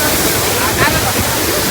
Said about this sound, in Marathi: इथं खूप मोठा धबधबा आहे.